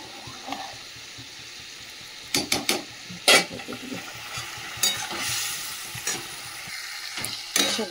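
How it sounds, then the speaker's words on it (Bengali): Potato and spice masala with tomato and green chilli paste fries in oil in a pan, a low continuous sizzle broken by scraping stirs and clacks of the spoon against the pan, close by. "আলু মশলাটাকে একটু ভালো করে কষিয়ে নিলাম, তেলও ছেড়ে গেছে মশলা দিয়ে।"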